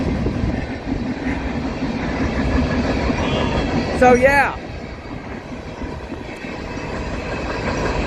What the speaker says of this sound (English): So yeah, this train is E750.